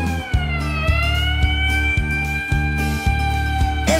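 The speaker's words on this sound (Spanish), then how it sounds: "¡Sí, es una ambulancia! Ese sonido es una ambulancia." Ambulance siren in a children's song about vehicle sounds, a steady two-tone wail that repeats with a pulsing rhythm, loud and close, with no voices over it.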